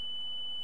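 A clear steady electronic beep sounds in Half-Life 2 Episode 2, a continuous pure tone ending in a brief brighter blip, alone without talk.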